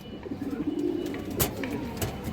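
An old female pigeon coos in a low, soft, rolling phrase, close by, with a couple of brief sharp clicks or rustles breaking in.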